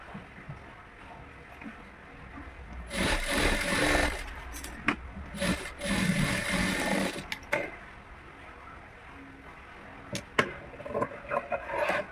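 A sewing machine stitches a lining piece onto an embroidered blouse in short, rattling bursts with quiet pauses between runs, and faint taps and handling noises follow.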